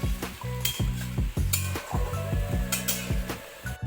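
Water is added to a pan of fish curry with elephant apple while it is stirred, giving repeated scraping and clinking strokes in a steady rhythm over a bubbling, sizzling simmer, close and fairly loud.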